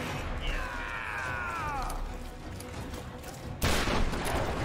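Shotgun fire in the video game Tomb Raider (2013): one loud, sharp blast late in the clip, preceded by a quiet game ambience and a short whistling tone.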